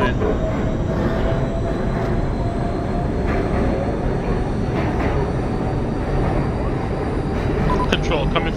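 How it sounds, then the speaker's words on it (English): Subway train on the D Line to Coney Island–Stillwell Avenue in the OpenBVE train simulator, a steady loud rolling rumble and wheel noise with a few faint clicks near the end, no talk. "Just wait for this train to leave out of 170"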